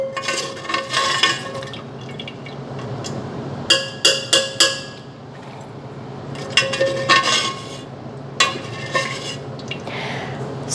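Cooked bacon and its fat being strained in a kitchen for carnivore bacon chips, with repeated metallic clinks and scrapes of pan and utensil over a steady low background, several bunched clusters of clatter spread across the stretch.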